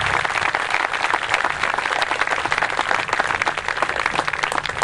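A crowd at an outdoor 1944 close-assault reenactment event gives veterans sustained, dense applause, many hands clapping steadily and loudly throughout.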